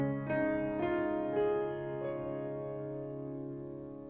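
Korg Pa5x keyboard piano notes held by the damper pedal. A few struck notes ring on and blend together, then decay slowly into a soft, lingering sustain.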